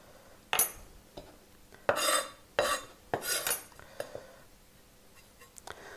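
Fresh ginger scraped with a spoon, several quick bursts of metal rasping against the root with short pauses in between, close and fairly clear, with no talking.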